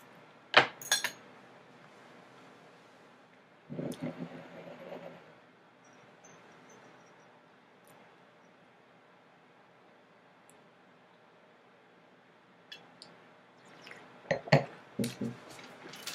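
Cutlery scraping and clinking on a plate while someone eats seared tempeh, a few short separate metallic clinks and scrapes spread across an otherwise quiet stretch, close by.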